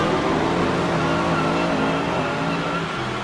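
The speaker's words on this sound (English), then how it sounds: "les moteurs rugissent, le 42e Grand Prix de France démarre dans 3, 2, 1, départ!" Formula One cars from the 1956 season at the start of the French Grand Prix, engines roaring in a loud, steady, dense drone that holds throughout without a break.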